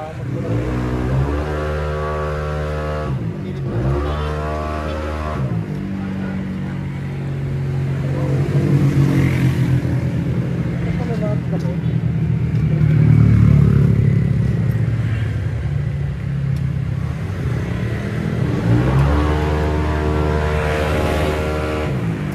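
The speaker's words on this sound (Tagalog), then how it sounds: "May dyno, oh. Dyno. Tingnan nyo kung yung power ng motor mo." Motorcycle engine revving on a dyno, loud and close, with repeated rising and falling throttle sweeps and a long sustained high-rev stretch in the middle.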